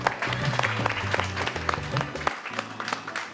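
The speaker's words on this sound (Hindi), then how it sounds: "बहुत सारी तालियां जी।" A studio audience on an iftar cooking broadcast bursts into applause, a steady patter of many hands over low background sound that thins out near the end.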